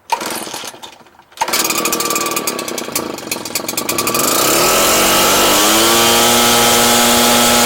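Yard Machines lawn mower engine starting after a pull, sputtering at first, then catching and settling into a loud, steady, close running drone.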